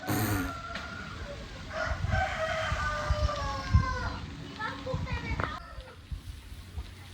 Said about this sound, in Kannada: ಸಿ ಅವರೇ ಕೋಳಿ ಸಾಕಿದ್ದಾರೆ.